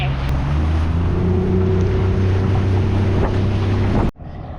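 Small tender boat motoring across shallow reef water, a loud steady outboard drone with wind buffeting the microphone, cutting off abruptly near the end.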